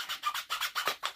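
A hand rasp files the wood of a walking stick in a steady rhythm of about six rough strokes, each a close, dry scraping burst with brief pauses between.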